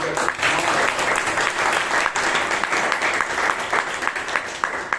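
Sustained applause from a Toastmasters meeting audience in Bangalore, a thick, even wash of clapping from a room full of people that holds at full level from start to finish.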